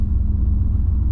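A stock 1983 Trans Am at the drag strip, manually shifted on its second pass, gives a loud, close, steady low engine rumble in a brief burst.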